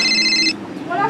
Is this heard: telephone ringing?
yes